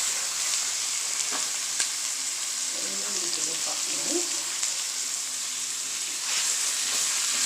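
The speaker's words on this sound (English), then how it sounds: "So I'm adding the meat to the pot." Ground meat seasoned with browning fries in a pot with a loud, continuous hissing sizzle and a few stirring clatters partway through, close and steady throughout.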